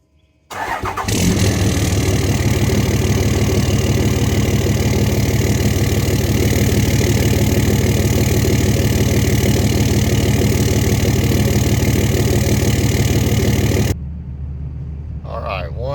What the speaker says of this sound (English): And this is cold start after the exhaust install.